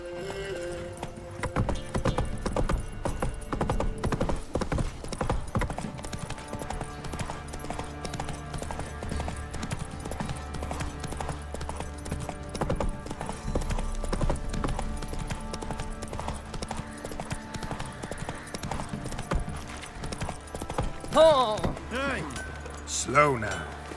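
Clip-clopping hooves of Roach, Geralt's horse in The Witcher 3: Next-Gen, move in a steady rhythmic gait with occasional tack jingles and a brief whinny, up close, while a voice talks over parts of the run and game music plays underneath.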